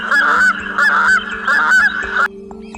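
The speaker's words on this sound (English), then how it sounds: "Goose." A goose honks loudly and close in four repeated bursts of about half a second each, evenly spaced, with a steady low hum underneath and no speech.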